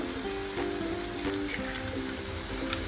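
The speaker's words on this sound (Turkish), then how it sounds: "Domateslerim sotelendi ve şimdi üzerlerine yumurta kırıyorum." Eggs cracked over sautéed tomatoes hiss and sizzle steadily in a hot pan, a continuous crackling fry with a few brief sharper pops, close and fairly loud with no talking.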